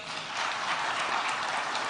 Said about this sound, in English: A round of applause for them, tafadhali.